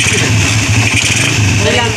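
A repaired Rusi R150 motorcycle engine idles quietly and steadily nearby, with a low, even hum and no loud rattling, running continuously for the whole two seconds.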